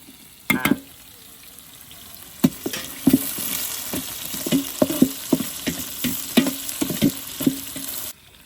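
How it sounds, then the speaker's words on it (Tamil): Onions and green chillies fry in a pan for a rock fish curry, a steady close sizzle broken by repeated sharp scrapes and clicks of stirring at a fairly even rhythm. "வெங்காயம் வந்து நல்லா பொன்னிறமா நல்லா வதங்கணும்."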